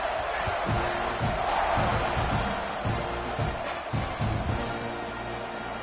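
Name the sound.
football stadium crowd roaring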